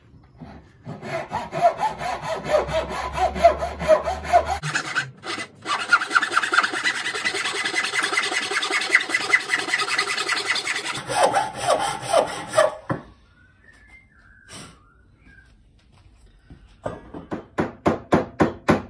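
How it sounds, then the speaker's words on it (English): A hand saw cuts through the thick end of a wooden walking stick that had been held in a lathe, with steady rasping back-and-forth strokes, a short pause midway, then a final burst of quicker strokes. "we're going to cut off the larger bit at the end of the stick that was being held in the lathe"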